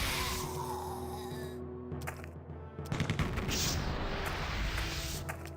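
Weapons fire in the 1999 strategy game Warhammer 40k: Rites of War, with missile launchers and lance weapons hitting Terminators: dense rattling bursts and booming impacts, moderately loud, with a heavier flurry in the second half and no talking.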